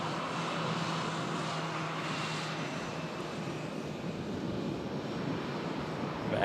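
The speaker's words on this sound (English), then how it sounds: "Nice to see the Boeing 777 at Manchester." A Boeing 777 at Manchester Airport produces a steady, broad jet-engine roar at middle distance, holding a constant level throughout with a faint low hum beneath and no voices.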